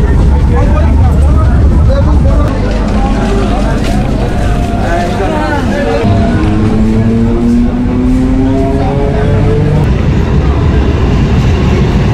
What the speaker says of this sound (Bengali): এখন ট্রেন চলেছে হাওড়া স্টেশনের দিকে